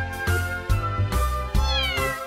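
Several short meows from a toy kitty, with faint background noise between the calls.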